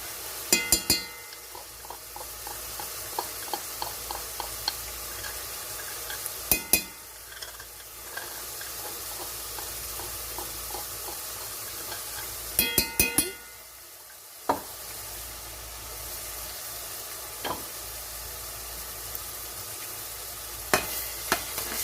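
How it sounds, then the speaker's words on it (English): Garlic frying with sofrito in a pan, giving a steady bright sizzle throughout, broken by occasional clinks and scrapes of a utensil stirring against the pan. "And we're going to put in our garlic."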